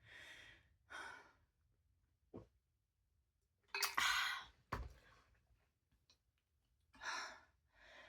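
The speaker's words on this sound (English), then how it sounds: "Take another deep breath and take a drink." A person takes deep, audible breaths close by, with long sighing exhales and a sharper intake in between while pausing for a drink, with no talking.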